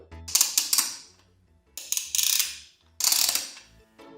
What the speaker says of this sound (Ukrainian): Поруч із кнопкою активації знаходиться тріщатка для створення тактильно-шумового ефекту.